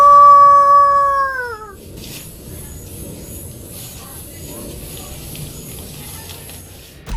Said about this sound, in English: The video begins with a wolf-like howl, uncertain if it's a creature we'll see or something else entirely